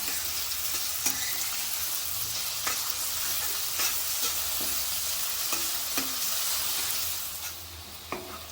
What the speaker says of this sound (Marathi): आता आपण कांदा घालूया आता हे मऊ शिजून घ्यायचा आहे कांदा